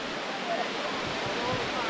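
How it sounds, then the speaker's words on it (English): Strong wind picking up outdoors during an afternoon storm at a sports field, a steady loud broadband roar of gusting air without break. "Wind picking up a lot."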